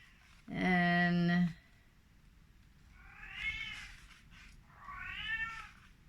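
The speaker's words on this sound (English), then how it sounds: "I don't know what this kitty cat wants" A cat gives one loud, sustained meow near the microphone, followed by two quieter, rising meows a moment later, with a faint background hum between them.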